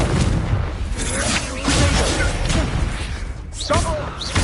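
Confringo blasting spell fired in the Hogwarts Legacy video game, booming explosive thuds and crashing impacts with whooshing bursts, loud and dense throughout and repeating in waves across a few seconds of combat.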